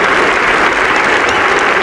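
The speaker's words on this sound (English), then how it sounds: "And he brings up the 200 to a great cheer from this Yorkshire crowd." A Yorkshire cricket crowd at a Test match cheering and applauding, a dense, loud, continuous roar of clapping and cheers filling the whole moment.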